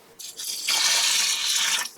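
Two and a half cups of water poured into an Instant Pot over rice and other ingredients, a steady close splashing stream that builds quickly, runs for about a second and a half, then tapers off.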